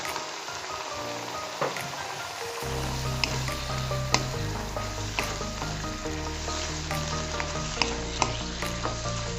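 Snow peas and minced pork stir-fry in a hot pan, with a steady close sizzle and intermittent clinks and scrapes from stirring, no talk.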